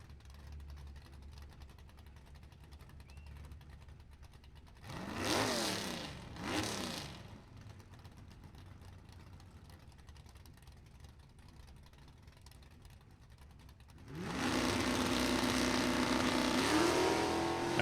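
Drag race cars roar off the line at a B.O.P. event, including a W30 Olds 442 doing a wheels-up launch: two brief loud engine bursts pass mid-clip, then a sustained full-throttle roar builds near the end.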